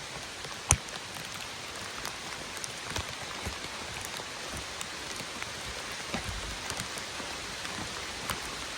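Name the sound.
steady heavy rain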